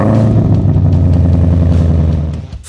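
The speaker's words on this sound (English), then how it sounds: "2020 Ford Mustang Shelby GT500. You'll be delighted by just listening to it." A powerful 2020 Ford Mustang Shelby GT500 V8 engine rumbles loudly and steadily close by, a deep throbbing idle with no talking, trailing off at the end.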